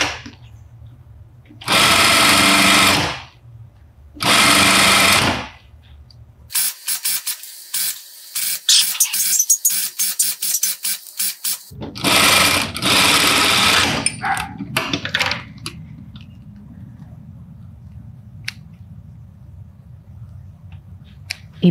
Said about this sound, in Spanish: Y ahora voy a hacer el dobladillo en la máquina plana.